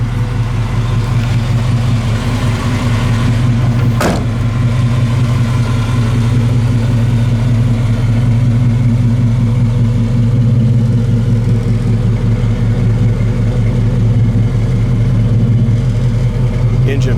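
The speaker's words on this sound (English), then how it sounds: "Engine really runs nice and smooth." A 1967 Chevrolet Chevelle SS engine idles with a steady, smooth low rumble close by, running evenly throughout while someone talks over it.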